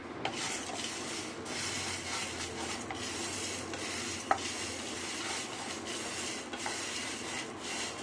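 Fenugreek seeds roasting in a hot pan alongside pepper, stirred with a steady scraping and rasping of a spoon against the pan, a soft continuous rubbing with no voices.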